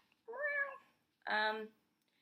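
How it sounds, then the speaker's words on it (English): A house cat meows twice, close by, the second call louder and more strained, with quiet pauses around each. "Sorry, my cat."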